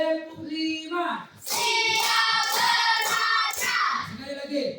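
A classroom group claps along to a counted clap chant, bursts of clapping in a steady rhythm mixed with sung or chanted voices, close and loud.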